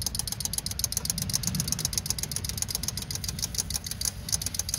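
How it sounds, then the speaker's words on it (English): Electric fuel pump on a Honda 600 car ticks in a fast, steady rhythm, close and fairly loud, under a low mechanical rumble throughout, with no talking. "I hear the fuel pump running."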